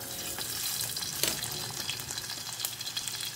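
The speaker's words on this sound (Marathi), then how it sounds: "तेल तापलेलें आसा जस्ट थोडेशें हांव कांदे घालता" Chopped onions drop into hot oil and sizzle with a steady, bright frying hiss that stays close and fairly loud throughout, with no talking.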